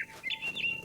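A small bird in the What Remains of Edith Finch video game gives a few quick, high chirps close by. The calls are clear and fairly loud, with no talk over them.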